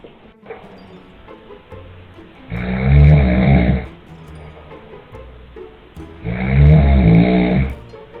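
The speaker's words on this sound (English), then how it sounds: "This baby has had enough of his father's loud snoring." A father snores loudly in two long, heavy bursts a few seconds apart, each a rough rasping drone, with quiet room noise between them.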